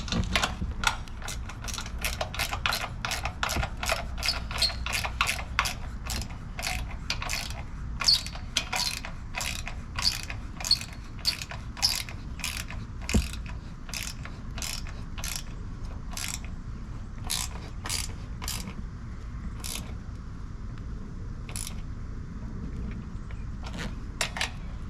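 A hand ratchet snugs bolts during a repair, producing a fast, steady run of sharp clicks close by that goes on for a long time with brief pauses, then slows and thins out toward the end.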